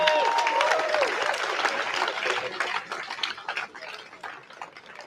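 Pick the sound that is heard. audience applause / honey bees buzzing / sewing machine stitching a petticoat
audience applause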